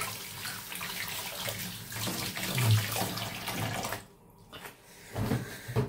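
Hot tap water runs and splashes steadily into a sink, stops briefly, then resumes with a few clinks of greasy dishes.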